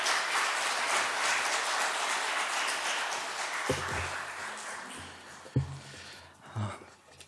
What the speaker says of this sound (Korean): 우리 성도님들을 힘차게 환영의 박수로 맞아주시기 바랍니다